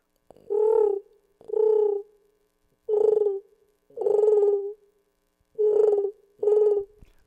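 A voice imitates a pigeon with six rounded cooing calls in an uneven rhythm, each separated by short silences, close and clear.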